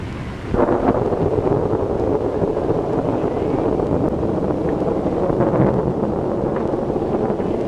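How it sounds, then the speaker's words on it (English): Heavy thunderstorm with strong wind, a sudden surge of loud rumbling, rushing noise that holds steady and dense for several seconds with no voices. "Well, this is a storm and a half."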